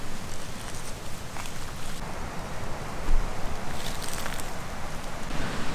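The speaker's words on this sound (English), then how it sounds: "This wind absolutely sucks." Strong wind blows outdoors at a woodland food plot during archery deer season, a loud, constant roaring buffet with gusts that swell and rumble throughout.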